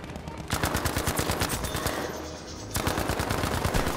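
Shotgun fire in a video game rings out in a dense, rapid volley of overlapping blasts with a short lull in the middle, loud and close, with no one talking over it.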